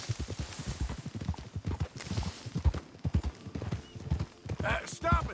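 In the Western video game Red Dead Redemption, a horse's hooves clop rhythmically at close range while people talk over them, and a short whinny rises near the end.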